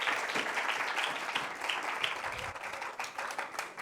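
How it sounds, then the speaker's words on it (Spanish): A church congregation breaks into loud, dense applause during a Spanish-language service, the clapping filling the space continuously and thinning slightly toward the end, with no voices clearly heard. "Den un fuerte aplauso al Señor,"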